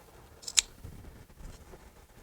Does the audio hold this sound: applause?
no